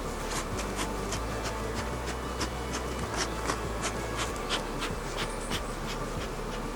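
Angry honey bees swarm around a hot, defensive hive in an outdoor bee yard, a dense, steady buzzing that fills the air up close and continues without a break.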